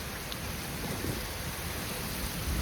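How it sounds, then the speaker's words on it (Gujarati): Torrential rain hammers down on a farm in the dark, a dense, fairly faint roar with low thundery rumbling underneath. It is steady throughout, with no speech. "કટકા કાઢે એવો વરસાદ છે"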